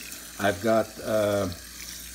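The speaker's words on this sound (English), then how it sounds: "So right now I'm putting hot water in my mixture." Hot water is poured into a chicken feed mix of scratch grains, poultry grower and sunflower seeds for fermenting rooster feed, a steady soft splashing under a person talking close by.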